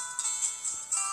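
A mobile phone ringtone plays from the next room, a muffled repeating electronic melody with short tonal phrases recurring several times at moderate volume.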